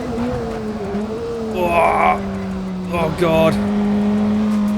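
A BAC Mono race car is driven hard on the Bathurst circuit, its engine holding a steady, droning note with brief shifts in pitch. A voice is heard over the engine throughout.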